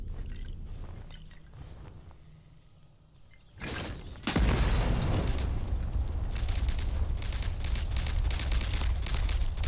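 A thrown molotov bursts into fire in the video game Atomfall. A quiet, shuffling lead-in gives way to a sudden crackling whoosh, then a loud, dense roar of flames and crackle that carries on steadily to the end.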